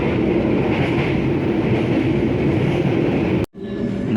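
KA Bogowonto passenger train running through Cikampek station, a loud steady rumble of wheels and carriages close by that cuts off abruptly near the end before the rolling noise resumes more faintly.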